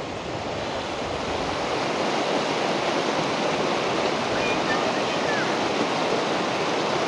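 A strong river current rushes over rocks near Diana, a dense, unbroken roar of water that stays loud and close throughout with no letup, tinged with wind noise.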